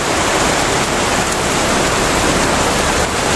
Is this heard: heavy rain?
yes